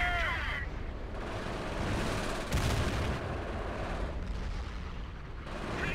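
Gunfire and artillery rumble in a Company of Heroes skirmish with the Europe at War mod, dense and continuous with heavier booming bursts throughout and no voices.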